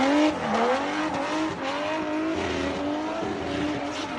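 BMW E36 drift car with a pre-TU M52 engine, revving loudly and continuously with a rising and falling engine tone, rasping exhaust and background roar, close and without talk.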